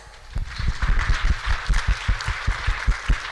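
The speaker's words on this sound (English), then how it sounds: "So let's give everybody a round of applause." A panel audience at a clean-cooking industry talk gives a short, fairly close burst of clapping with an uneven, rhythmic pattern.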